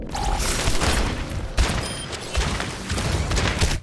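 Game gunfire and explosive booms from Overwatch, played on a Steam Controller, burst in dense, loud volleys that continue throughout with a sharp hit near the middle.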